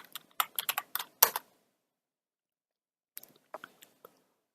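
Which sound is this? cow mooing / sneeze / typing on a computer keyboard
typing on a computer keyboard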